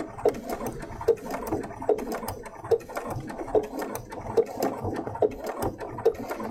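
A sewing machine runs slowly along a coat seam for a Burda 7142 coat, giving a loud, close, regular thumping stitch rhythm of about one beat per second over a low motor hum.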